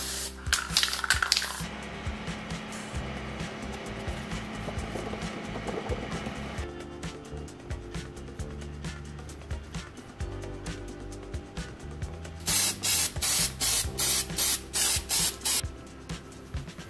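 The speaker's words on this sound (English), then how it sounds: "The top side is sprayed with transparent acrylic spray for protection." Bursts of hissing clear acrylic aerosol spray, a longer steady spray followed by a series of short rhythmic puffs, close by with faint background noise.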